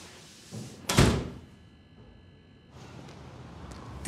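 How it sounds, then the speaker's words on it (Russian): A door is pushed shut in a room, with a single fairly loud thud standing out, followed by quieter indoor room tone. "Дверь прикрой, сквозняк."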